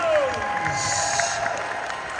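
A packed convention hall audience applauds Hocus Pocus panel guests at Monsterpalooza, steady dense clapping and cheering from a large crowd throughout.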